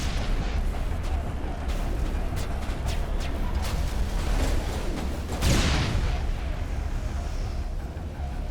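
An anti-personnel-round weapon fires in the Mass Effect science-fiction video game, one loud sharp blast standing out against a dense, constant roar of combat noise.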